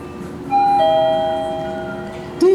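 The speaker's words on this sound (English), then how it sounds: "I just want to listen to the chimes up here because, yeah, Mitsubishi is one of my favorite elevator companies." A Mitsubishi traction elevator's arrival chime in a high-rise tower at Caesars Palace, Las Vegas: a clear two-tone ding-dong that rings and slowly fades, loud and close with no talking.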